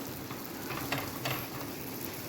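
Sweet chapati frying in oil on a hot pan, a steady soft sizzle with faint crackles running through, close and fairly quiet, no voices.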